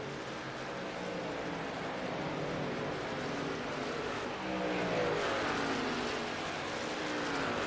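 Race cars and trucks lapping the Charlotte track during a FUN League 600 event, with a steady, dense roar of engines that swells slightly midway and no voices.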